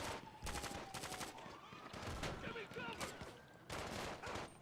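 Gunfire rattles through a street gang turf battle in Grand Theft Auto V, with rapid automatic bursts and scattered shots, some near and some farther off, forming a steady fusillade under faint background sounds.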